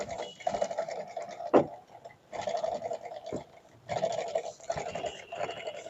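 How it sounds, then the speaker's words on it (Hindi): A domestic sewing machine runs and stitches in three bursts of steady mechanical whirring, each roughly a second and a half long, with short gaps between. One sharp clack sounds during the first burst. "अब हमारी मशीन सिलाई बिल्कुल सही दे रही है"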